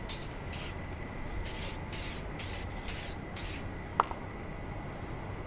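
An aerosol can sprays finish onto a wooden spindle stool in short hissing bursts, several in a row at close range, with one sharp click near the end.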